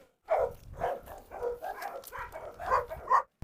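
Large dogs such as a Cane Corso and a Kangal bark and yip excitedly in a rapid, uneven string of close, loud barks with whimpering edges, continuous for about three seconds.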